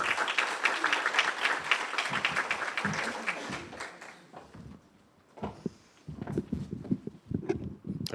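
An audience at a Tiger Bay Club event applauds as a speaker comes forward, with dense clapping that fades out midway, followed by scattered claps and footsteps near the microphone.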